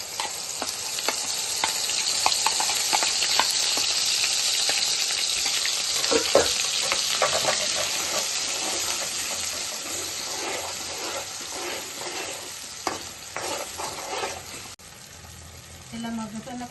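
Blended tomato and onion masala paste with cumin seeds and a bay leaf sizzles steadily in hot oil, loud and close, with repeated stirring scrapes, a faint voice in the background and quieter bubbling toward the end.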